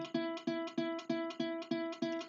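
A single guitar note, E, is picked over and over in a steady rhythm, about eight plucks, fairly quiet and clear with no talking.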